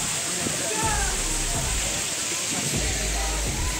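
Water rushing steadily at Nalkeshwar waterfall, a broad continuous roar heard close by, with a few low bumps and faint voices in the background.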